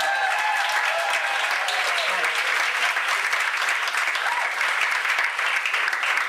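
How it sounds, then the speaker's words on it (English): Stand-up comedy club audience bursts into sustained applause, thick, loud, even clapping from many hands that holds steady throughout with faint voices beneath. "Can I get a little applause for that?"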